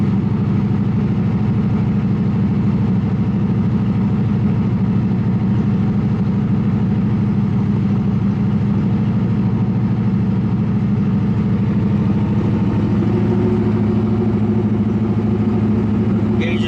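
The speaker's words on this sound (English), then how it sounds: "Okay, it's idling pretty good." A 1976 C3 Corvette V8 idles steadily after its yearly start-up, a low, even rumble held around fast idle with a slight change in pitch near the end.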